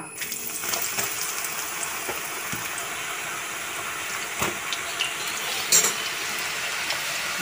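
Breadfruit pieces frying in hot coconut oil give a steady, close sizzling hiss with soft crackles and an occasional sharper pop, and no voices are heard.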